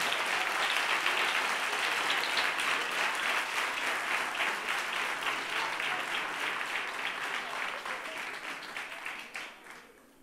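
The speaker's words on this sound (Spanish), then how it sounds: "Ese aplauso" An audience at a children's reading contest applauds a finalist with a long, dense round of clapping that stays full and even, then thins and fades near the end.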